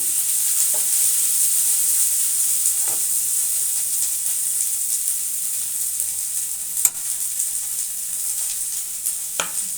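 Cluster bean pieces fry with coconut chili powder in a pan, giving a steady hiss of sizzling oil with a few faint stirring scrapes, close and continuous without any talking.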